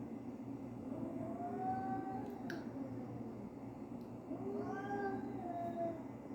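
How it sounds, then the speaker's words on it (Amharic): A cat meows twice indoors, each call a drawn-out, wavering cry of about a second and a half, with a soft clicking sound between them against a quiet background hum. "ድመት አለ"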